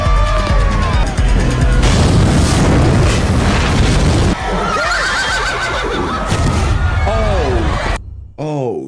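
A spooked police horse on a TV drama whinnies loudly several times amid booming, rumbling crashes and a dense dramatic mix, ending with a brief quieter moment.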